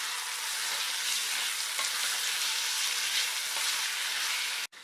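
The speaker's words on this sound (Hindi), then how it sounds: "अब हम इसमें ऐड करेंगे अपने कटे हुए टमाटर और इस टमाटर को गलने तक हम इसे भून के तैयार करेंगे" Chopped tomatoes fry in ginger garlic paste for an egg curry, giving a steady, close, even sizzle throughout with no talking, cutting off abruptly just before the end.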